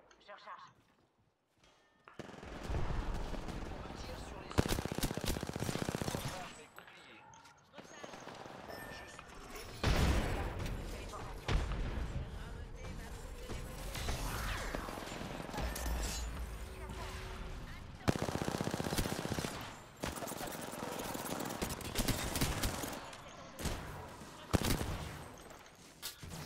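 Repeated gunfire bursts in a French-language multiplayer shooter match, rapid shots and loud impacts recurring across the stretch while players talk over the action.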